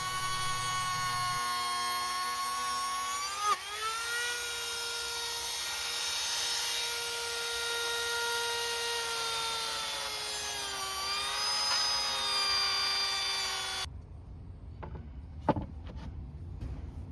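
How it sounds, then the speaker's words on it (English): A power router cuts a groove into the edge of a composite decking board, giving a loud, steady high-pitched whine with slight pitch shifts that runs about fourteen seconds, then stops and leaves a few faint knocks. "with help from a router, it was"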